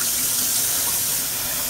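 Cold water runs steadily from a kitchen tap, a dense, close hiss of splashing flow that stays constant and alone for the whole moment.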